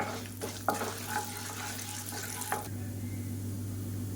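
Urad dal frying in oil in a pan, a soft, low sizzle with a few light scrapes and clinks early on, then a steady hiss, no speech.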